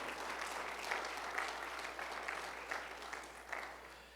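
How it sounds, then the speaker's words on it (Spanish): A church congregation applauds together, a broad, even patter of many hands that sounds distant and fairly quiet, holding steady throughout with faint voices mixed in. "¿Puedes darle un aplauso al Señor por cada una de sus misericordias?"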